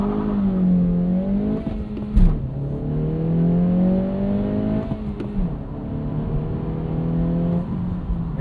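A 2026 Acura Integra A-Spec with a manual gearbox launching hard from a standstill, its engine rising in pitch through the gears with a clear drop at each shift, heard steadily from inside the car.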